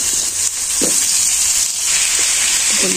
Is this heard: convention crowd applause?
no